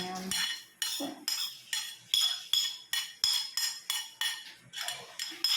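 A spoon mixes carrot, onion and garlic lumpia filling in a bowl, with quick rhythmic scraping and clinking against the sides, repeated about a dozen times without pause.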